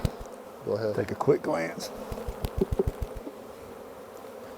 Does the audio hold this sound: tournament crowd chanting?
no